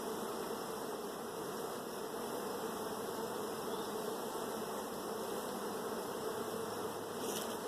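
Honey bees swarm around a frame pulled from a hive during a split, making a steady, dense, close buzzing drone that holds unbroken throughout with no voices.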